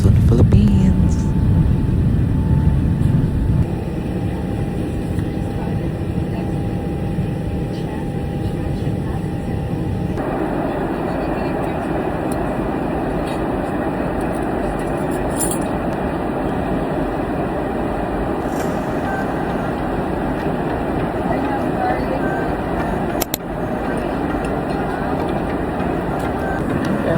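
Steady, loud airplane cabin roar builds during takeoff on a flight to Manila, Philippines, with the engine noise swelling partway through and continuing as a constant wash.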